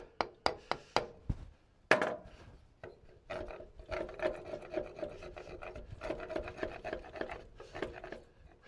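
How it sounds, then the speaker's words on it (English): A chisel knocks and pares away wood at a floor joist joint. A few sharp taps come first, then several seconds of close, scraping, rasping cuts. "These ones here on the outside, I like to chisel off."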